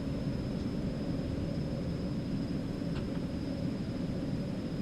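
Steady loud roar of an Eclipse 550 business jet climbing out after takeoff in the X-Plane 11 flight simulator, a broad constant rumble holding evenly throughout with no speech.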